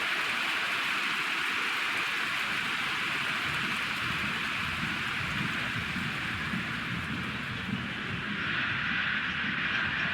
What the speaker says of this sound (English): Rain starting to fall here.